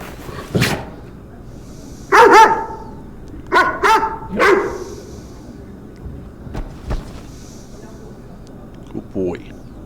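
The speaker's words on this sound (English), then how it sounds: "Such a good dog." A dog in the video game Firefighting Simulator barks in a few loud bursts spread across the scene, with a voice talking in between.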